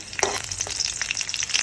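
Data greens (amaranth) drop into hot oil with browned garlic and set off a sharp, close sizzle that crackles on in uneven bursts, with a light stirring scrape underneath.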